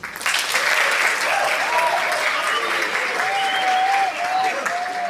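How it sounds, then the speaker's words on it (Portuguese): A large audience at a panel talk on Black women intellectuals in Brazil breaks into applause, a loud, sustained wash of clapping lasting about four seconds, with a voice rising faintly through it. "Salva de palmas."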